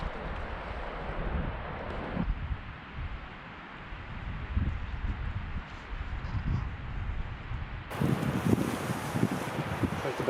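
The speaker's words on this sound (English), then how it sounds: "The wind's off my right shoulder." Wind blowing outdoors in the Alaskan wilderness during a bear hunt, a steady broadband rush that swells and gusts, growing louder toward the end.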